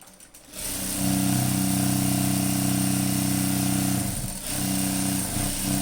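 A sewing machine runs steadily while double-stitching the back section of a night dress, its motor humming loud and continuous with a brief dip near the end before resuming.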